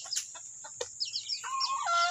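Chickens being raised on a small farm cluck and squawk softly at feeding time, with short scattered calls followed by a longer drawn-out cackle.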